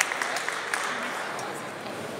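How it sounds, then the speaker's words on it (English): An audience at an MMA convention in Manchester applauds Randy Couture, a dense patter of clapping that is loudest at the start and settles into a steady, fairly distant wash. "Let's give Randy a round of applause"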